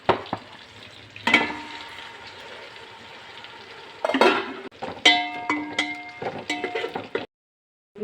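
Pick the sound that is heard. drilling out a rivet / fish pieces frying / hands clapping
fish pieces frying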